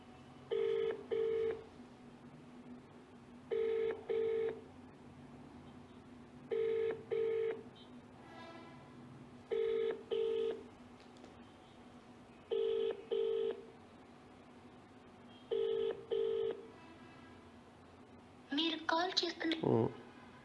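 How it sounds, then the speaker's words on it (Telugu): An unanswered telephone call repeats its ringback tone in regular double bursts, seven cycles of paired beeps separated by quiet gaps, with a brief burst of voice at the very end. "ఫోన్ ఎత్తట్లేదు."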